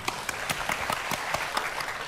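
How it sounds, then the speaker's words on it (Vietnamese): An audience at an outdoor stage event claps to cheer on a young man making a love confession, a loose scatter of individual hand claps, fairly near and steady, with no voices over them. "vỗ tay cho người ta đi"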